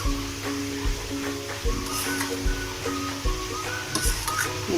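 A spoon stirs mango cake batter with yogurt in a bowl, giving a steady scraping swirl with soft clinks against the sides. It stays close and fairly quiet, with no talking.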